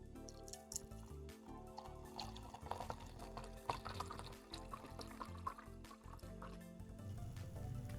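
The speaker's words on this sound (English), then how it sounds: "I'm gonna pour my wine right in front of the mic." Wine poured into a glass close to a microphone, a steady liquid trickle and dripping that lasts the whole stretch, up front but set against a dense background bed.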